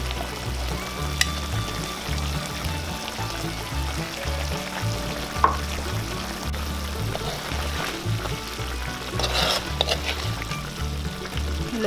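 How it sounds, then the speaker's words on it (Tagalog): Fried potatoes and carrots being gently stirred into a pan of native chicken adobo, a continuous sizzle and bubbling with soft scraping turns of a spoon, close and steady throughout, no voices. "Haluin lang po natin ng konti."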